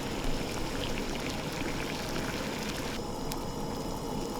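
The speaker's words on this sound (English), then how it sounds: "As the water is boiling, you want to gently drop the dumplings in." Pork dumplings dropping into a pot of boiling water, giving a steady bubbling, splashing wash that stays fairly loud throughout with no talking.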